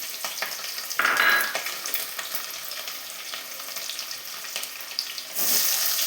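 Garlic cloves sizzling in hot oil with mustard seeds and cumin in a kadai, a steady close frying hiss that swells briefly near the start and again at the end.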